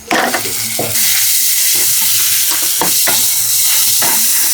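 Onions with small and large cumin seeds frying in oil in a pan for a mutton intestine chukka, a loud steady sizzle broken by scraping stirs, with no talking.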